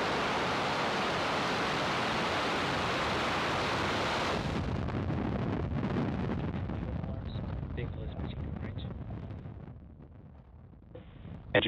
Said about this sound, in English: And liftoff, Falcon 9.